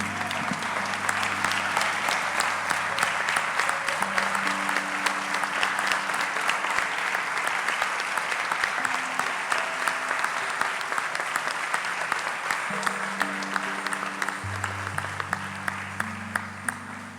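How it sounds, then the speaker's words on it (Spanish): A standing church congregation gives a sustained ovation to God, with dense, continuous clapping filling the hall alongside a held organ or keyboard chord, steady and loud throughout. "vamos a darle una ovación a nuestro Dios"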